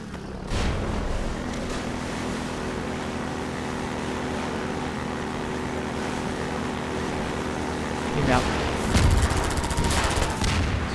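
Machine gun fire in the video game Half-Life 2, set in a port district of the city, comes as sharp bursts late in the clip over a constant low in-game rumble.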